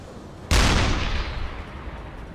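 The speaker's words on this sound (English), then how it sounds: "we're just going to deck gun the crap out of these guys" A U-boat deck gun fires in a submarine video game at sea: a single loud, sudden blast with a long rumbling decay.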